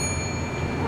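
A typewriter's carriage-return bell is imitated as one bright, ringing tone that holds evenly from start to finish, close and fairly loud, with no talking.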